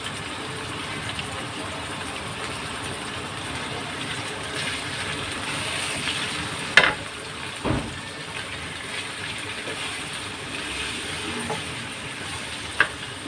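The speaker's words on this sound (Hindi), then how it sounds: "तो इसकी भुनाई करते हैं अदरक और लहसुन में" Chicken frying in ginger garlic paste, a steady close sizzle with occasional scrapes and knocks of stirring in the pan, no voices.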